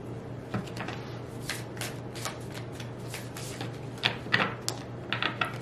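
A deck of advice cards shuffled close by during a card reading, a run of soft riffling flicks and taps over a low steady hum, with the clicks growing sharper toward the end.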